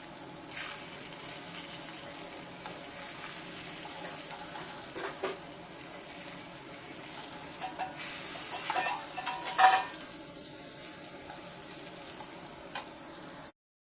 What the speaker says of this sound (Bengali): সবগুলো কচুর পিস এভাবে হালকা করে ভেজে নিয়েছি